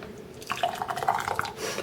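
Homemade habanero sauce pours through a funnel into a can, a close, fairly quiet run of liquid trickles and drips that swells after the first half-second and continues unevenly to the end.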